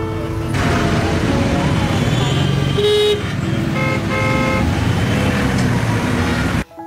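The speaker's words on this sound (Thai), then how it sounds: "มาที่นี่จะได้ยินเสียงแตรตลอดเวลานะคะ" Car horns honk again and again in busy city traffic, loud and near, with short toots and longer blasts piling over a constant roar of engines and road noise.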